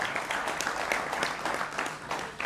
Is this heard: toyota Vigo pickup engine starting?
no